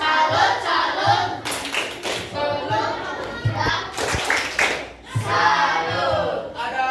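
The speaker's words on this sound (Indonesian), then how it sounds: "Oke, tepuk salut untuk kelompok 3." A classroom group gives a clapping salute, with bursts of claps mixed into children's chanting voices and lively talk throughout.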